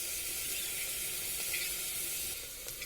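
Onion sizzles and fries in oil in a pan for masala rice, a soft continuous crackling hiss, faint and close, with no voices.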